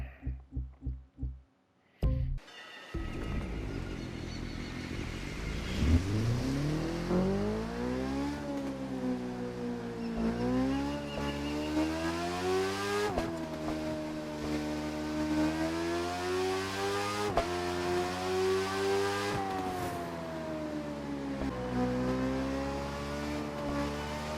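Motorcycle ridden in The Crew 2, its engine note climbing and falling through repeated revs and gear shifts, a steady buzzing tone that runs continuously after a short quiet start.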